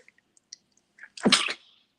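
A single sharp sneeze bursts out nearby after a short inhale, with a few faint clicks before it.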